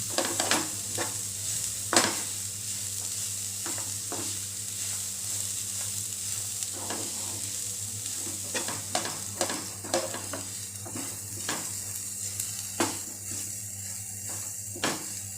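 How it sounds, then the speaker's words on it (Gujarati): Crushed green peanuts sauté in hot oil, a continuous sizzle broken by frequent scraping and stirring clicks of a spoon against the pan, close and steady throughout with no talking. "પહેલાં તેલની સાથે એકદમ આપણે માંડવીના દાણાને જે આપણે ક્રશ કરેલા એને સરસ સાતળી લેશું"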